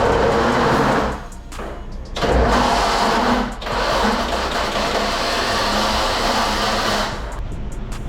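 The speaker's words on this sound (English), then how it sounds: "As you guys just heard, I'm still having issues with my starter." A Ford Bronco engine with a faulty starter that spins and catches on bad teeth, heard as loud, close cranking and running in several long bursts broken by brief gaps, with no talk.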